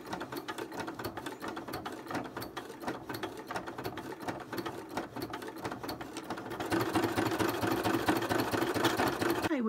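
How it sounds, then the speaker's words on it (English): Sewing machine stitching leather-like paper fabric scraps together with strong thread, a close, steady rapid mechanical chatter of needle and gears running continuously, growing louder and busier toward the end. "I'm just having a little practice stitch on a couple of the scraps and sewing them together"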